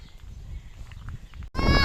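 A goat on a ranch in Jalisco, Mexico lets out a single loud, close bleat at the end, after quiet windy outdoor noise.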